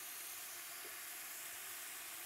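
Water hits a hot pan of carrot and broccoli and turns to steam. A dense, even sizzle and hiss runs throughout at close range, with no talking.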